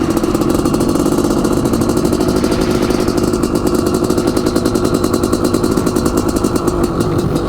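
A Honda CR500AF two-stroke dirt bike roars close and loud during a wheelie on a lakeside ride, a rapid continuous pulsing engine note that rises in pitch partway through.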